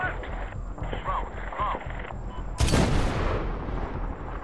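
A sudden loud explosive blast from an RPG rocket in the Medal of Honor shooter game, with a roar and a decaying rumble, following muffled battlefield noise and scattered gunfire under shouted talk.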